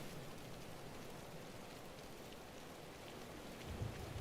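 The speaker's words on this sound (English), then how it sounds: "Well, that's a bit of rain." Rain falls in the Farming Simulator 25 game as a steady, soft hiss of wash, fairly faint and alone, with a slight low rumble swelling near the end.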